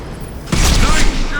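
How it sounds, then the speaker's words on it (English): A high-impact shot in Mass Effect 2, a sudden heavy blast that breaks a quiet lead-in, then a loud rumbling roar and crackle that trails off, close by. "Firing a high-impact shot!"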